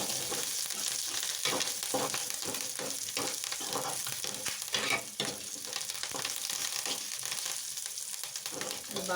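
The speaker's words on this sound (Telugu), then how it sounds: "మనం కొంచెం కరివేపాకు వేసేసుకొని దాన్ని బాగా కలిపి" Curry leaves crackling and frying in hot oil in a pan for a pea seasoning, with continuous sizzling and repeated scraping stirs of a spoon, close up and without talk.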